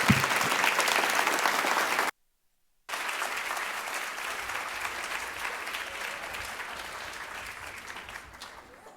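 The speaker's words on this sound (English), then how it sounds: "let's another round of applause for Geraldine Brooks." Sustained applause from a luncheon audience honoring Geraldine Brooks, broad and steady with a brief gap of silence, then continuing evenly and tapering slightly at the end.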